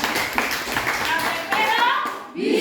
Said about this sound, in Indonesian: Berikan dulu tepuk tangan tetap ya